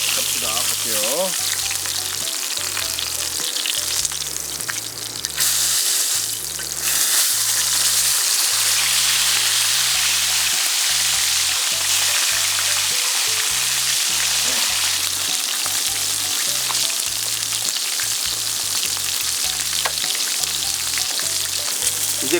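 Hanwoo beef steak frying in beef tallow in a pan beside a valley stream, a loud continuous sizzle and spatter close up with low scraping and handling knocks underneath.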